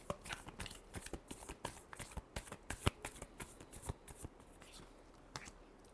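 Tarot cards being shuffled by hand make a rapid, irregular run of crisp riffling snaps and soft slaps. The sound is close and clear, with no talk over it.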